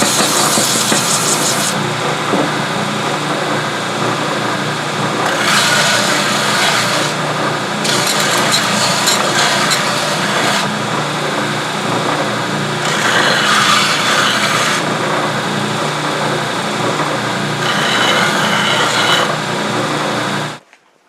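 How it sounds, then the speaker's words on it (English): A belt sander knocks the sharp edges off an HSS scraper blank in a workshop. The grinding roar is loud and close and runs continuously, with brighter rasping surges each time the steel is pressed to the belt. "I need to take off these very sharp edges, and I'm just going to hit on the bottom, and I'm just going to do that on a belt sander."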